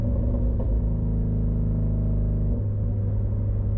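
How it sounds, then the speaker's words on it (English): A loud Ford Shelby GT350R engine rumbling continuously from inside the cabin with the back seats down, a deep steady drone that shifts pitch slightly as it runs. "This car is so freaking loud"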